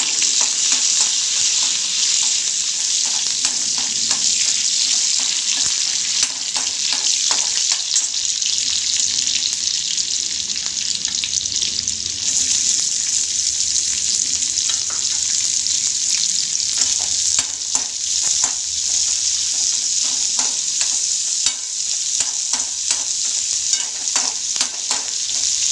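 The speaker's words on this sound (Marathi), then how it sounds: "गॅसवर कढई ठेवली आहे, त्याच्यामध्ये जिरे, मोहरी आणि कढीपत्ता, लसूण, मिरची टाकून फोडणी द्यायची आहे" Cumin, mustard seeds, curry leaves, garlic and chilli crackle and sizzle in hot oil in a kadai on a gas stove, a steady bright frying hiss with stirring scrapes running throughout, no talking.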